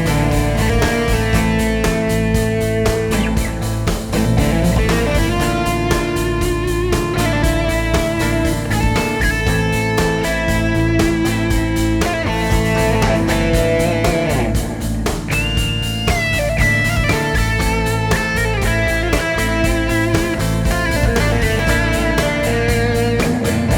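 An electric guitar plays the A Hirajoshi scale in its Phrygian mode, a continuous run of plucked melodic notes over sustained tones, loud and unaccompanied by speech.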